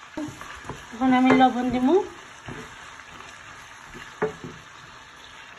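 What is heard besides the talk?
onion frying in hot oil with koi fish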